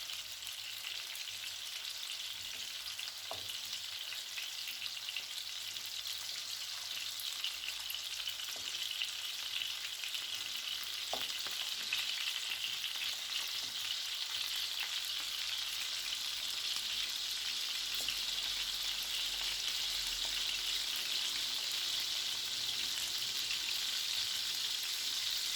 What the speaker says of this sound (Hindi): देखिए मीडियम फ्लेम पर कबाब को फ्राई करेंगे।